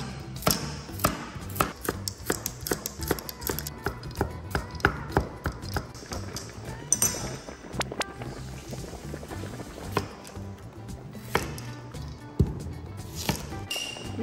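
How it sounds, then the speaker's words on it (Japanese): Unpeeled carrots being minced with a knife on a cutting board, a steady run of quick, crisp chopping taps, close and moderately loud throughout, with no talking. "そのままみじん切りいきたいと思います。"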